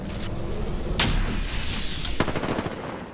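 Rapid bursts of gunfire in the Apex Legends battle royale shooter, with sharp close shots around the one-second mark and near the end over a dense, loud backdrop of distant fire and effects, no talk.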